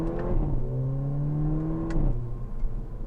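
2017 Mercedes-AMG A45 hot hatch engine accelerating, a rising engine tone that climbs through the revs then drops at a gear change, heard from inside the car.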